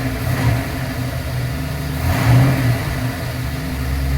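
A 347 stroker V8 in a 1966 Ford Mustang runs steadily close by, with a deep, even rumble and a slight swell in revs near the middle, no voices.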